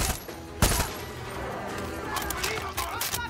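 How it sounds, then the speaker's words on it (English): Rapid automatic gunfire rattles through a Far Cry 6 game scene, with one loud sharp shot standing out early over continuous crackling bursts. "Somebody's shooting."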